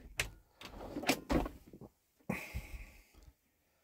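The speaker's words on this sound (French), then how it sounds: "Sous l'évier, nous avons deux grands tiroirs." A large kitchen drawer under the sink of an Adria Twin Plus 600 SPB camper van slides open and shut in several scraping, rumbling bursts, with a clunk and a short pause between them. The sound is close and fairly faint.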